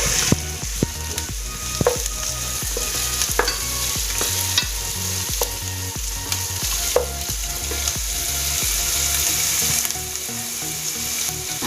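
Capsicum tossed into a pan of lightly fried onion and ginger, frying with a steady loud sizzle broken by repeated clinks and scrapes of a stirring spoon, with no voices.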